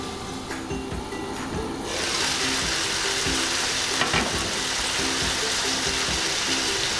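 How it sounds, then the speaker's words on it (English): Teriyaki chicken pieces frying under a lid in a pan, a soft steady sizzle that jumps louder after about two seconds and then holds, with faint clicks and clatter of the lid and pan. "Cook the other side for another 3 to 4 minutes with the lid on this time to cook it completely."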